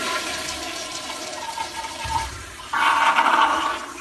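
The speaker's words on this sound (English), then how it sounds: "You need the toilet flushing sound for this chat." A toilet flushing sound effect: a low, watery gurgle that builds into a loud, steady rushing roar of water, sounding close and alone.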